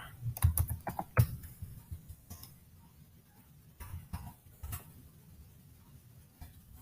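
Typing on a computer keyboard at a command line, a brief burst of quick clicking keystrokes followed by a few sparse taps, close and fairly quiet with no talk.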